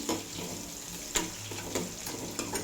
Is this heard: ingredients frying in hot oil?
yes